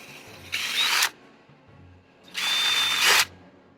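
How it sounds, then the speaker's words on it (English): A power drill bores freehand into metal scale-armour plates in two bursts, the second one longer, each ending in a sharp cutoff, with quiet handling between them. "So how do you drill it?"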